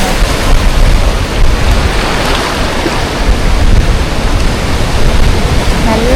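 Surf washes against the shore at Cape Solander in a loud, continuous rushing roar with no break, mixed with some wind.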